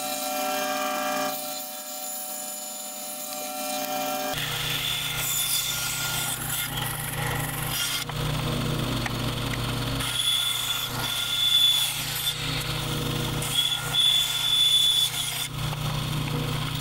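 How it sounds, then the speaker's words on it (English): Bandsaw slicing small pieces of recycled automotive paint blank, a steady close motor drone with cutting noise rising and falling over several passes, starting after a brief quieter lead-in. "I'm gonna just cut up a few pieces on the bandsaw"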